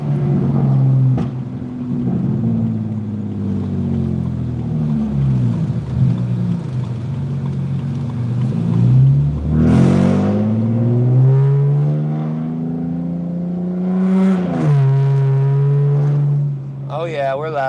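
A loud BMW E90 325xi with a leaky oil pan gasket drives and revs hard, its deep exhaust rumbling and rising in several pulls, heard from inside the car while someone talks over it.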